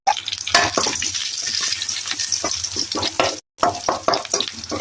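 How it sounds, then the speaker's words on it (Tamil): Onion, garlic and dried chili sputter and fry close by while being stirred, with repeated scraping strokes over a steady sizzle. A brief silent gap falls near the end before the stirring starts again. "வெங்காயம் பூண்டு எல்லாம் முருவி வருது"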